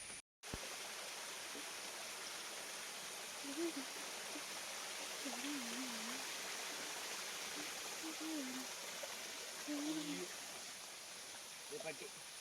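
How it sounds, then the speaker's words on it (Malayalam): Forest stream flowing, a steady soft rushing and trickling of water heard close by, faint and continuous, with a few quiet voices and birdlike chirps over it. "തോടിൻ്റെ അടുത്ത് എത്തിയിട്ടുണ്ട് കേട്ടോ"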